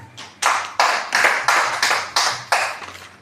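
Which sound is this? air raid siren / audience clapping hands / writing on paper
audience clapping hands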